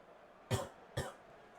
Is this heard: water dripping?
no